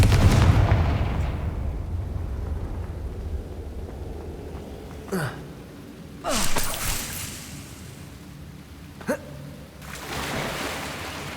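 Confringo blasting spells exploding in the video game Hogwarts Legacy: several separate sharp bursts a second or more apart, each fading quickly over a low, steady ambient rumble.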